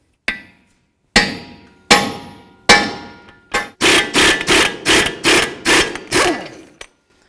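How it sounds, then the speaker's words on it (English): Hammer blows ring out on a 32mm socket fitted over a rusted nut on a 2008–2012 Jeep Liberty front lower ball joint: four spaced, ringing metallic strikes, then a fast run of about eight loud, evenly paced hits, close and without talk. "we're just going to try to hammer on our 32mm socket"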